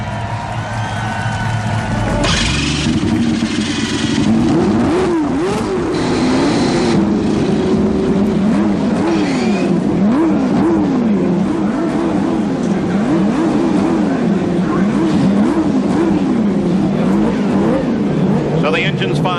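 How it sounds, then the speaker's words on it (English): Turbocharged CART race car engines of 161 cubic inches and nearly 800 horsepower fire up and rev at the Marlboro 500 in Michigan, a loud dense roar of many engines with repeated rising and falling revs, sustained throughout under a talking announcer. "The engines fire, 161 cubic inches, turbocharged engines, developing nearly 800 horsepower"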